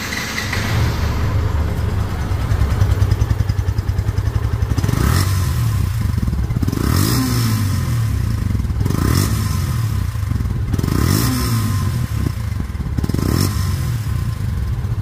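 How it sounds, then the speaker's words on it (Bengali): A 2022 Yamaha FZ version 2 motorcycle in showroom condition with about 2700 km runs loudly and close up, its engine rumbling steadily while being revved in several repeated bursts. "এই গাড়িটির সাউন্ড শুনলে বুঝতে পারবেন যে ইঞ্জিন কোয়ালিটি কেমন"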